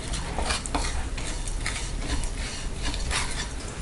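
Almond gum frying in ghee in a pan gives a dense, continuous crackling sizzle with occasional sharper pops, close and loud throughout.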